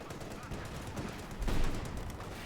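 Bazooka fire in Company of Heroes 2, a World War II strategy game with Obersoldaten infantry, a Sherman and a Panther on the field: a dull low thump rises out of steady battle noise partway through, under a commentator's voice.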